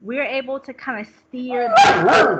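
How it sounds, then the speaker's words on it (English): A pet dog barks in a home during an online family meeting. A few sharp, loud yips and barks come in near the end, overlapping with a person speaking close to the microphone. "So I'm going to stop talking before my dog barks again."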